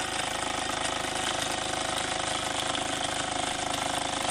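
A restored prewar Mamod SE3 toy steam engine with replaced gears and top shaft running smoothly, producing a continuous, even, rapid mechanical chatter up close with no talking.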